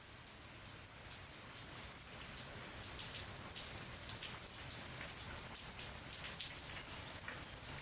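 Steady rain falls outside through the night, a continuous even hiss of drops on surfaces at moderate distance, unbroken for the whole stretch with no voices.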